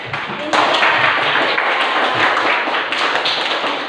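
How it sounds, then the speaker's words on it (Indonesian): A class of Islamic studies pupils in an Indonesian school breaks into a burst of dense, close applause, steady clapping that starts suddenly and continues loudly to the end, with some voices faintly underneath. "ayo beri tepuk tangan"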